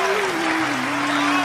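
An audience applauding at a poetry recital, a steady wash of clapping throughout with a sustained tonal hum running under it.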